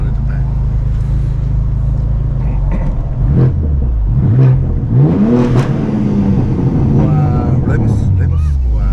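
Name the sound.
BMW S58 M car revving with Super Sprint straight-pipe exhaust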